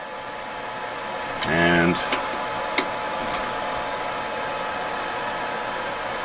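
A hot air rework station blows a steady airy hiss from its nozzle over a laptop GPU chip on a DV6000 board. A brief voice is heard and a few clicks sound, and the hiss continues throughout.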